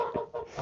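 Chickens in a coop give soft, brief clucks, two or three close low murmurs with no talk.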